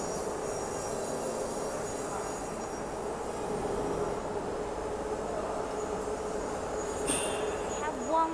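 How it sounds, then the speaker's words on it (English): A double layer roll forming machine for BR wall panels and roofing sheets runs steadily, feeding roof sheet over support rollers with a loud, continuous mechanical rumble and grind throughout, plus a brief sharper squeal near the end. "Double layer machine"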